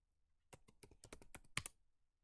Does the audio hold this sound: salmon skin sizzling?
no